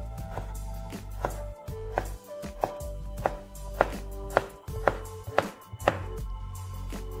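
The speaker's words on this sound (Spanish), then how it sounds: "Ahora lo voy a cortar como si fueran lardones de tocino" A knife cuts guanciale into lardons on a board in a slow, even series of about a dozen thudding strokes over a low background hum, with no speech.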